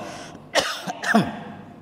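Two sharp coughs a moment apart, close and fairly loud, over a quiet background.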